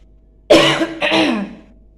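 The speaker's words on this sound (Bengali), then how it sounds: "আমার একটু ঠান্ডা লেগেছে দেখে কাশি হচ্ছে।" A person with a cold gives two rough, close, loud coughs and throat clears in quick succession, then quiet.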